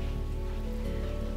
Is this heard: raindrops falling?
yes